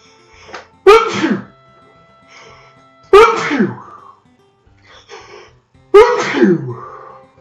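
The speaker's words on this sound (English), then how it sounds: "I just sneezed" Three loud, close human sneezes a couple of seconds apart, each a sharp burst trailing off into a breathy wail, with faint sniffs and breaths between them after a pinch of dry snuff.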